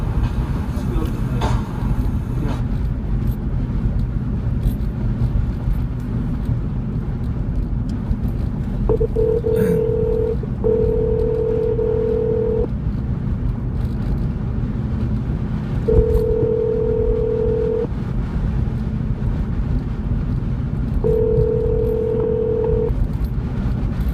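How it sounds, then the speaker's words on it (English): Several steady electronic phone tones sound during a call, each lasting a second or two with gaps between them, faint under constant background rumble and noise. "Phone call completed."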